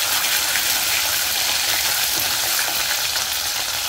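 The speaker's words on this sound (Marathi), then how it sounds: "आलं लसूण पेस्ट तेलात छान फ्राय करून घ्यायची।" Ginger garlic paste fries in hot oil with bay leaf and cinnamon, giving a steady, close, hissing sizzle that holds even throughout.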